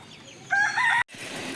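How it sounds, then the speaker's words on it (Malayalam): A chicken near a backyard coop housing about thirty birds gives a short, loud, close call lasting half a second, followed by quieter farmyard background. "അപ്പോൾ നമ്മൾ കോഴിക്കുഞ്ഞുങ്ങളെ ഇറക്കിയിട്ടിട്ടോ"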